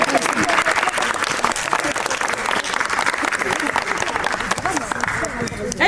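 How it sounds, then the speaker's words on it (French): Loud crowd applause for dancers at a dance call inside the Adidas Arena, a thick, continuous wash of clapping with cheering voices and shouts mixed throughout. "Moi je vous applaudissez parce que vraiment vous avez fait le taf."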